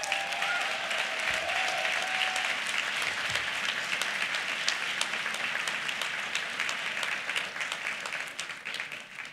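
Audience applause fills a hall at the Cooper Union 2022 commencement ceremony, a loud, dense, steady roar of many hands clapping that holds for several seconds before tapering slightly, with no voices over it.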